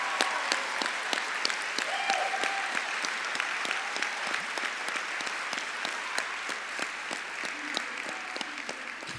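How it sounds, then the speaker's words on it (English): A graduation audience applauds veterans, steady dense clapping from a large crowd that continues without a break, with sharper individual claps standing out near the recording point. "please stand up for a round of applause"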